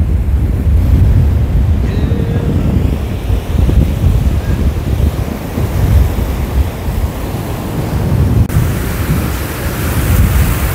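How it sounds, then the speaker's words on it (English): Strong cold wind roaring and buffeting at a lakeshore, with low rumbling gusts and what sounds like waves surging nearby; no talking. "It's very cold and a strong windy."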